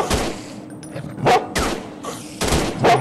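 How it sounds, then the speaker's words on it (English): A dog barks inside a video game, three loud separate barks evenly spaced over a few seconds, with game ambience in between. "Oh, he's barking at this spider."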